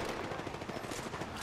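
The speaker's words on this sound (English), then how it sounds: "Opening fire." Rapid automatic gunfire in the Apex Legends battle royale game, a quick burst of closely spaced shots filling a short stretch at steady, fairly loud level.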